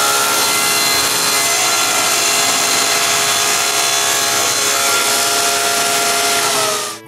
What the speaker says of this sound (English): The first thing to do is to cut a wedge shape on one side.